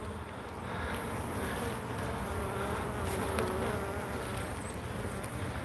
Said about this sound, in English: The bottom box is packed with bees.